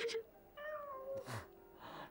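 A cat meows in the video game Stray, a few short close mewing calls with rising and falling pitch spread across two seconds, with no talk over them.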